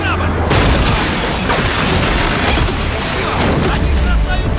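Mines exploding around a boat in Uncharted 4 game combat, a loud sudden boom followed by rolling blasts, splashes and roaring engine noise that stay dense and intense throughout.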